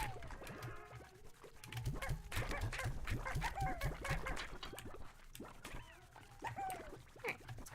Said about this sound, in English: Alright, let's go check on the chickens